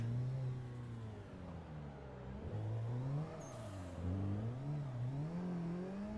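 A car engine in Assetto Corsa revs and wavers while drifting and spinning out, its pitch sliding up and down in uneven surges, steady and moderately loud without talk.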